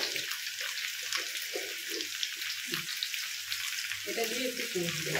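Aloo posto potatoes, seasoned with salt and a little sugar, sauté in a pan with a soft, even sizzle and faint stirring noises.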